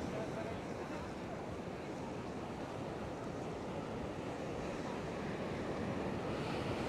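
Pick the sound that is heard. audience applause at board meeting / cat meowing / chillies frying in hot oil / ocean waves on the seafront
ocean waves on the seafront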